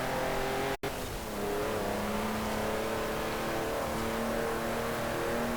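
Classic Austin-Healey and Triumph sports cars racing in a Forza game, a steady close engine drone with rising revs and shifting pitch, broken by one very brief dropout near the start.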